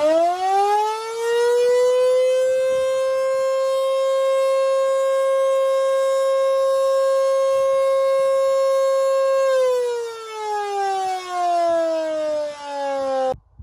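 A loud Model 2 civil defense siren 15 feet away holds a steady rising wail for several seconds, then winds down in pitch as it slows.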